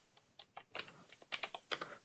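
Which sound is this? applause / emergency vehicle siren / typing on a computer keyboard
typing on a computer keyboard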